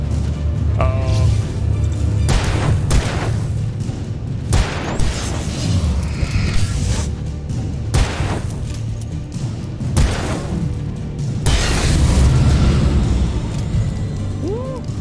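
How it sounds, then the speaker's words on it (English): A flashbang grenade goes off in the video game Alan Wake, with loud, sudden booms and crashing bursts breaking repeatedly through a busy, rumbling game soundscape, and brief sound effects scattered between them. "Did you flashbang me?"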